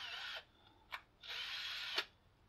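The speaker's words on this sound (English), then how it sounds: "Try such a cheap drill" A cheap electric drill whines in two short, strained bursts while drilling out an old rusty bolt on a Datsun 240Z, with a brief pause and clicks between them, fairly quiet.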